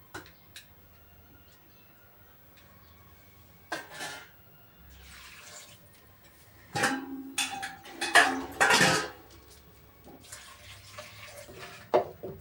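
Toor dal being rinsed with tap water in a kitchen, with intermittent splashing and running-water bursts, quiet near-silent gaps between them and a few soft clinks, loudest toward the middle and end.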